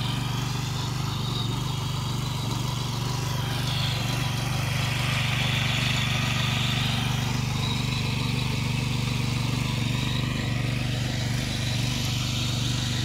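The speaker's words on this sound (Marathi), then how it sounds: "ट्रॅक्टर या मशिनीने आता सर्व असं हे पटापट होतं." A tractor ploughing a village field drones with a steady mid-pitched engine hum at some distance, holding even and continuous throughout without pauses or voices.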